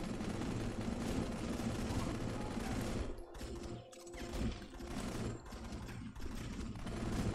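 Rapid automatic gunfire in Modern Combat 5, dense bursts of shots rattling continuously with a few short pauses between volleys, sitting at a fairly low level.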